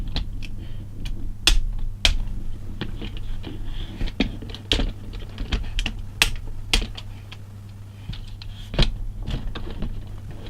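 Plastic parts of a Takara Tomy Transformers Legends God Bomber toy are folded and clicked into place, a string of sharp, close clicks and snaps at irregular intervals over a low steady hum.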